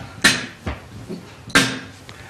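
A voice imitates a snare drum, producing two sharp, breathy bursts about a second apart, close and punchy, with softer clicks between.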